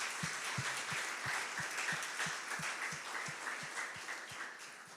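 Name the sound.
church congregation applause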